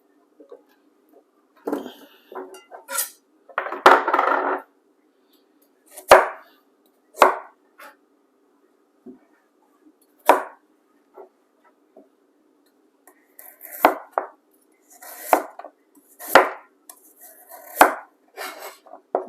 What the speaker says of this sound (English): So I'm gonna cut everything into julienne strips.